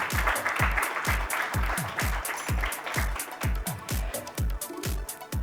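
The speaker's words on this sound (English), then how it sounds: "A big round of applause for the winners of the USIBC Global Leadership Awards." An audience at an awards summit applauds its leadership award winners, with a steady clatter of clapping over a regular, deep rhythmic thumping beat that pulses throughout.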